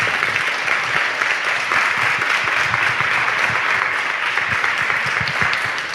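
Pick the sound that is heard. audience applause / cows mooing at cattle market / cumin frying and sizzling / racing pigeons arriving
audience applause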